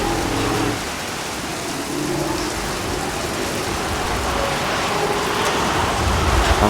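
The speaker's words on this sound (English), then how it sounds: "especially since it's raining and all the dinosaurs look amazing in the rain" Steady rain pours in the video game Jurassic World, a dense, even hiss that fills the scene without a break.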